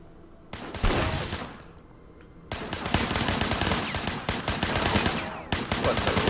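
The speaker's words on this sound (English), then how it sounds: "they're all just blasting each other" Rapid bursts of automatic gunfire in a Sleeping Dogs shootout, with cracking volleys starting after a quiet lull and continuing densely, then a brief pause before more shooting.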